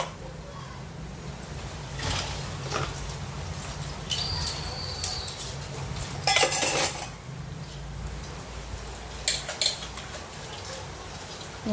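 Utensils and dishes clink and clatter as they are washed in a home kitchen, with scattered light metallic knocks over steady background noise.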